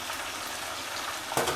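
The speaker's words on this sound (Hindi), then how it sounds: "एक साइड से देखें डीप फ्राई हो रही है बोटियाँ" Beef boti pieces deep frying in hot oil give a steady, dense sizzle with a brief louder crackling surge near the end, close and continuous with no voices.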